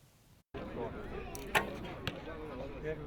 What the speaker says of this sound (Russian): Натянутая тетива, уверенный взгляд и выстрел.